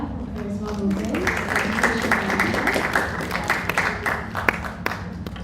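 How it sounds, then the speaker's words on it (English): A university campus audience at a youth speaker event gives a round of applause for a speaker from Charisma Movement. The clapping is scattered and moderate, with a continuous background hum and some voices underneath. "let's give a round of applause for Ida from Charisma Movement."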